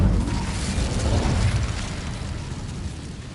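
Incendio fire spell cast in Hogwarts Legacy, a dense, loud rushing roar of flame that swells at the start and then thins out gradually over a few seconds, heard without any voices.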